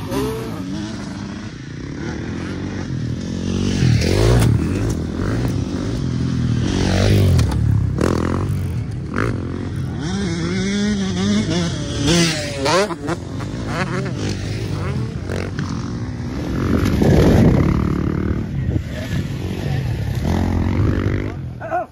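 Motorcycles ride through a training session, engines droning and revving up and down close by with scraping and clattering throughout, while an instructor's voice talks over the riding now and then.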